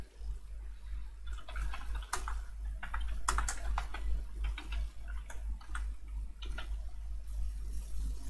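Keyboard clatter from someone typing a line of HTML on a computer keyboard, a steady run of light, irregular key taps close by with short pauses, over a low constant hum.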